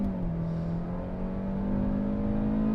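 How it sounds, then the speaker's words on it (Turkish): A 2021 Hyundai Elantra with a CVT accelerates at full throttle, its engine heard from inside the cabin as a steady, moderately loud drone that rises slowly in pitch without distinct gear changes. "Dip gaz yaptım şu an. Ve yürüyoruz CVT şanzımanla."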